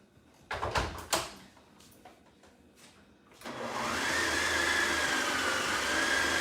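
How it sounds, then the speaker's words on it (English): A few clattering knocks, then a blender motor starts up on its dough setting, kneading dough with a steady loud whir, its pitch rising slightly as it settles. "I have a dough setting on my blender, so I'm gonna run it through there"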